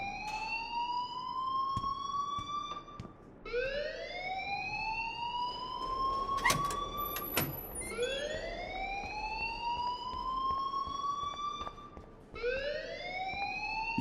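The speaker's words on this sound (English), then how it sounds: "please turn off that alarm since that's your job." An alarm blares in Life is Strange Remastered, a repeating rising electronic whoop that sweeps upward in long cycles, loud and continuous with no voices over it.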